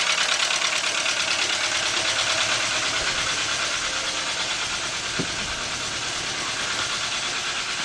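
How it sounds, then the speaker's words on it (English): A Volkswagen engine with a serious cylinder misfire idles roughly and steadily nearby, a constant loud hum with uneven knocking pulses and an occasional sharp tick, no talking. "it's got a serious misfire"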